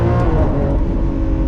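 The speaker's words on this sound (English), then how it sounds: "The exhaust sound is brilliant. That naturally aspirated V12." A 2022 Lamborghini Countach's naturally aspirated V12 exhaust roars loud and steady at close range, a dense, continuous engine tone with no talk over it.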